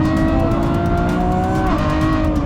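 A Lamborghini Revuelto, a heavy V12 hybrid supercar, brakes hard into a corner on a race track, engine loud and close with downshift blips and a faint tyre squeal.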